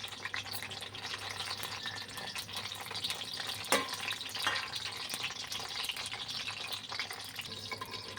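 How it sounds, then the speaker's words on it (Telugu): Eggplants fry on a medium flame in a pan, a steady crackling sizzle with scattered pops and a louder spatter near the middle, close and fairly quiet throughout. "ఇవన్నీ ఇందులో వేసుకొని కొంచెం ఫ్రై చేసుకోవాలండి."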